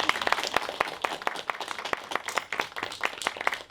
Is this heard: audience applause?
yes